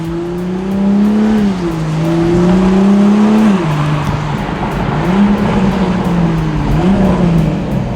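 A Toyota A91 Supra with a downpipe and stock exhaust revs loudly and close, its engine note rising and falling in repeated swells before settling into a lower idle-like drone.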